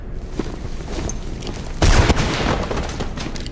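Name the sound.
gunshots in the video game Mirror's Edge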